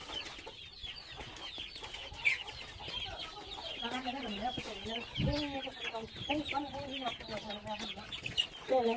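Chickens cluck and chatter in a busy, close flock on a rural Lao homestead, overlapping calls rising and falling with a few louder squawks; a person speaks faintly underneath.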